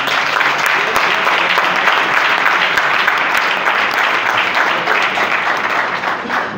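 Sustained audience applause and clapping fill a political rally hall, a dense, steady roar of many hands that holds at full strength throughout before easing slightly at the end.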